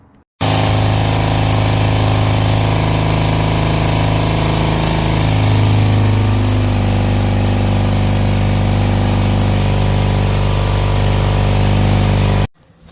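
A Datsun roadster with an EFI engine fires up and runs steadily, a loud, constant close-up engine drone with a low rumbling hum that holds unchanged for about twelve seconds before cutting off.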